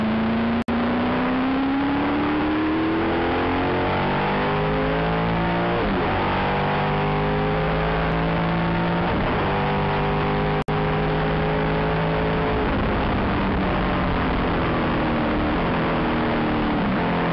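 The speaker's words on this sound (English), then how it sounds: "This is the race leader though, Kenny Smith." F5000 open-wheel race cars at the Lady Wigram Trophy race, engines whining up and down through gear changes as they pass in a steady, loud stream, with no voices over them.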